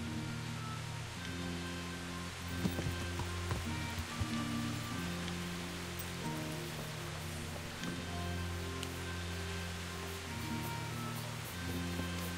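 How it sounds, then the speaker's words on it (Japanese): Steady rainfall in the medieval open-world game Kingdom Come: Deliverance, a soft constant hiss sitting beneath sustained musical tones, with no talking. "え、なんか雨の音。"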